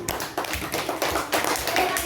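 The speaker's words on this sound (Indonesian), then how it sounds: "berikan tepuk tangan untuk teman-teman kita yang sudah tampil tadi" Children in an elementary classroom clap for classmates who have just performed, a steady patter of many small hands with uneven bursts, moderately close and continuing without speech.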